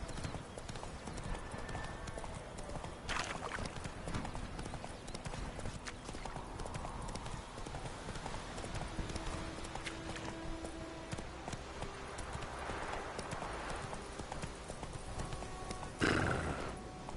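Horse galloping in The Witcher 3: Wild Hunt, with rapid, continuous hoofbeats running throughout over game ambience and a short, loud neigh near the end.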